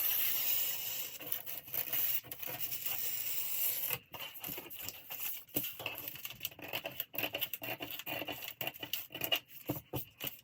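Scissors cut out a paper skirt pattern at the hem and center back. Close, intermittent rasping snips and paper rustles come in uneven bursts, with a short pause partway through and no speech.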